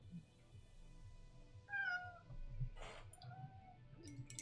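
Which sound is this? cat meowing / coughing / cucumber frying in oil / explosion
cat meowing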